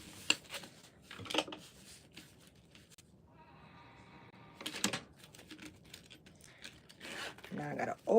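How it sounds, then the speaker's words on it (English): Zipper being closed on a handmade shoulder bag, several short rasping zip pulls in bursts, with quiet talk in between. "now I think I want to close my zipper back so it can stay closed and even"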